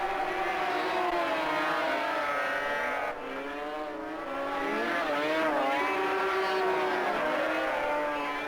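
Snowmobile race engines at the Kawasaki Winter Classic in Wasaga Beach, Ontario, wail loudly as they open up on a straightaway. Several rising and falling whines overlap, with a brief dip midway, and a commentator talks over them.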